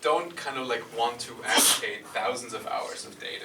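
A single sharp sneeze bursts out in the middle of ongoing speech from one person talking.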